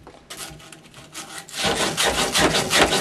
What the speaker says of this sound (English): So when you're done sanding it, it should look brand new.